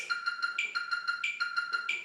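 A metronome set to 92 ticks steadily in fast groups of four, with a higher, accented click marking the first of each group; quiet and even.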